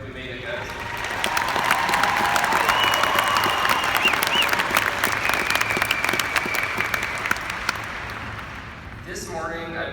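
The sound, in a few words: applause for the graduates at a graduation ceremony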